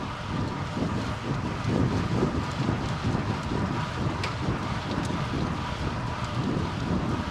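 Steady wind rush buffets the microphone of a road cyclist riding exposed in a crit race, a continuous low roaring noise with no voices.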